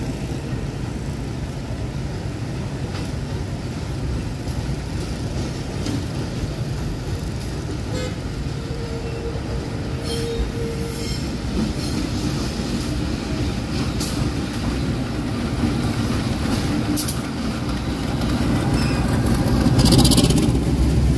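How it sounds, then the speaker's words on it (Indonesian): A Bandung Raya local train from Cicalengka bound for Padalarang rolls into a busy station, a steady rumble of wheels and carriages that grows louder toward the end, with a brief horn toot. "Nah, ini ada kereta yang mau masuk."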